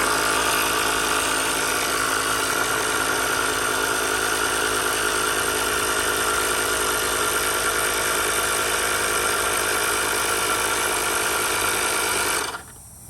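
An air pump runs continuously to inflate a pool leak repair liner in a pressure-side pipe, giving a loud, steady motor drone with a hissing edge. It cuts off abruptly near the end.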